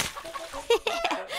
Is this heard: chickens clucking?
yes